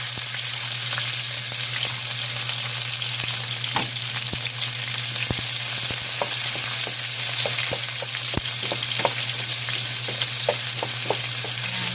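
Garlic and onion fry in hot cooking oil, giving a loud, steady sizzle close by, with scattered crackles and pops throughout and no talking.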